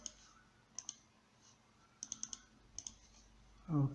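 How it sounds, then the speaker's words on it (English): Mouse clicks entering a password on an on-screen keyboard at a web application login: sharp, quiet clicks in small bursts of two to four, with a louder thump at the very end. "Quickly I will make use of the on-screen keyboard, then I enter the password."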